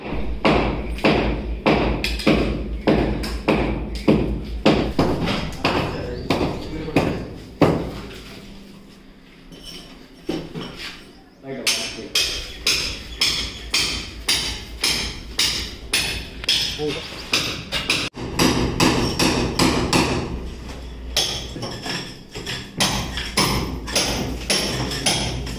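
Hammer blows knock down a brick house wall around a window opening, a long run of regular heavy thuds, close and loud, pausing briefly midway, with voices talking over parts of it.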